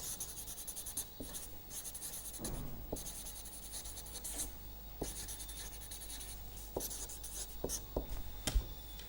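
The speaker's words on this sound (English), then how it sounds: "Let me write down all these formally." Chalk or marker scratches across a board in a lecture hall, quiet strokes coming in irregular bursts with brief taps and pauses between them, close and alone with no talking.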